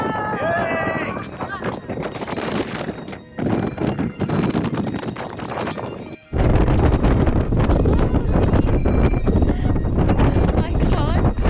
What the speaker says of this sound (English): This is so windy and breezy